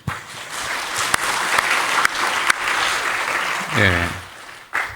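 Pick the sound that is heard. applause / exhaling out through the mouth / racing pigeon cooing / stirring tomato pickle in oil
applause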